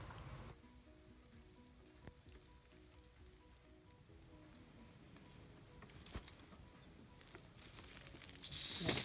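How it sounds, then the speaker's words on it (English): A rattlesnake beside the Bald Eagle ATV trail keeps up a faint, dry buzzing hiss, with a sudden louder burst of noise near the end. "when I stepped close to it, it started to rattle"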